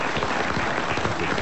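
A studio audience at a French radio comedy show applauds, a continuous, even burst of clapping at moderate level, slightly muffled, with no voices over it.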